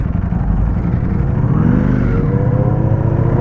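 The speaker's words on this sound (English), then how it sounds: "We have got the lovely R6 with its lovely Acura exhaust," Yamaha R6 motorcycle with an aftermarket Acura exhaust idling and revving at night in London, a loud, steady engine drone with a rising rev partway through.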